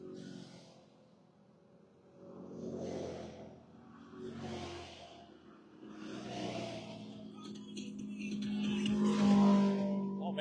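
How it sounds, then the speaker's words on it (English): A caravan of motorcycles streams past on a highway, engines swelling and fading in a run of overlapping pass-bys that grow slightly louder toward the end, heard from the roadside at moderate distance. "the motorcycles headed toward Benson"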